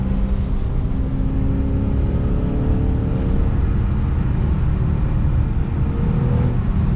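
A Lexus RC F V8 cruises on the road with a steady, loud low drone of engine and road noise from inside the cabin and no clear revving peaks.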